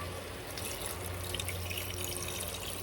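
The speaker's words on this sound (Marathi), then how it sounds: "हे बघा, आता टाकते त्याच्यामध्ये मी पाणी" Water pours into a pressure cooker holding a chicken dish being made in a home kitchen, a steady splashing flow that stays even and close for the whole stretch, with no talk.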